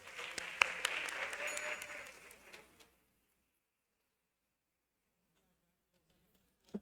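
Applause at an ordinary council session, honouring the council president: a burst of clapping at moderate level for under three seconds, then it cuts off into near silence.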